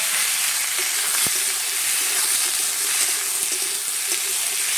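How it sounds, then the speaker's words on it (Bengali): Potatoes, aubergine and onions fry in a pan with a steady, dense sizzle that holds throughout, close and fairly loud, with one sharp click partway through and no voices. "একটু হালকা করে ভেজে নিচ্ছি।"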